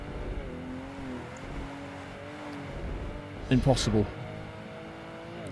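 A quick Ferrari's engine hums steadily in Project Gotham Racing 2, its revs rising in a brief louder burst near the end, under continuous talk.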